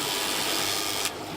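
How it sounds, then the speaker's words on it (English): A sanding pad rubs steadily across a rustic bowl turned from punky pine, making a continuous broad hiss that ends abruptly after about a second. "Get a little sand across the bottom there"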